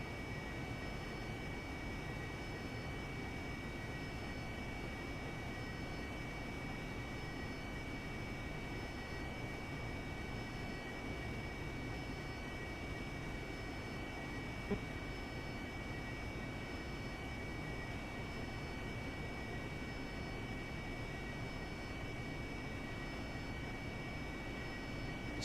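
Steady, even jet engine roar with a faint high whine from an AV-8B Harrier in the DCS flight simulator, holding constant throughout as the aircraft slows below 250 knots with landing gear lowering.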